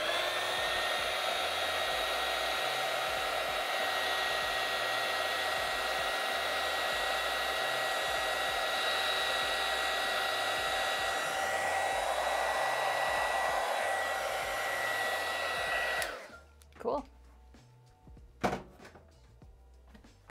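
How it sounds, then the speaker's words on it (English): A heat sealer runs on a homemade limoncello bottle, giving a steady, loud, airy hum for about sixteen seconds. It cuts off, and a few soft thunks follow. "Let me seal it up. Heat seal it. It's going to make a little noise."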